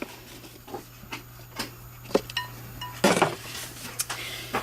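Bread dropped into a bowl of bread pudding mixture gives soft thuds and clinks against the bowl, with a louder cluster of knocks midway and scattered light taps nearby.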